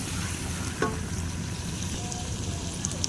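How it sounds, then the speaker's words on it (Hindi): Beef karahi sizzles steadily in a pan with chilli paste, a constant close hiss of frying with one brief clink of a utensil partway through and no voices. "1 मिनट तक इसे फ्राई करेंगे।"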